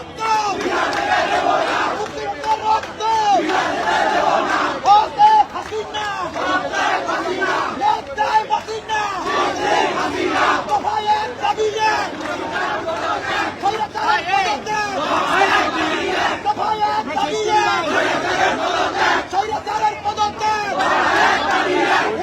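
A large crowd chants political slogans in unison, a loud, steady roar of massed voices with rhythmic rises and falls continuing for over twenty seconds.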